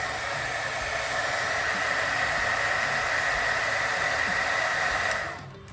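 A hair dryer blows steadily and loudly up close, heating the hand of a small Mego-scale Iron Man figure, a constant airy roar that cuts off near the end.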